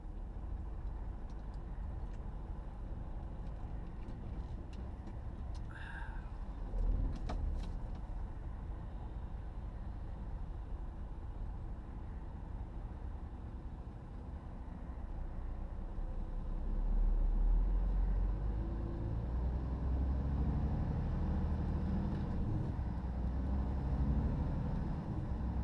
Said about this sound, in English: there's a lot of foreign lorries on the road.